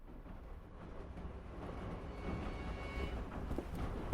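Low, steady rumble of a moving train heard from inside a carriage, faint and continuous with a soft rattling hum that grows slightly louder toward the end.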